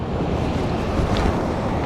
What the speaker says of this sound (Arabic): باقي البحر كيضرب شي موجات اللي كيكونوا مجهدين